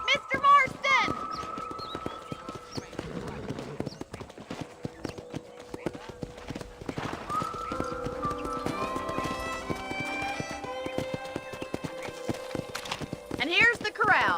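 Horse hooves clip-clop steadily in a Red Dead Redemption town scene, a continuous rhythmic patter of hoofbeats running under ongoing talk, with a brief whinny near the start.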